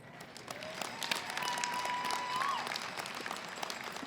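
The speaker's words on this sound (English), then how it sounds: "So let's give our faculty a round of applause." Sustained applause for faculty at a university graduation ceremony: a large crowd claps steadily, moderately loud and fairly even throughout, with a faint whistle-like tone rising briefly above it.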